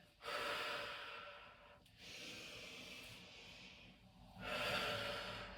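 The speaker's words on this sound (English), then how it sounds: "breathing in to reach up, breathing out to sink down, breathing in to come up" Slow, deep breaths during a standing exercise session, with long airy inhales and exhales that swell and fade in a calm rhythm, close and soft with no speech.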